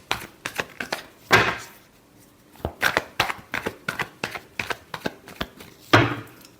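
Tarot cards being shuffled by hand, with quick clusters of crisp riffling snaps separated by short pauses and two heavier bridging flutters, close and alone.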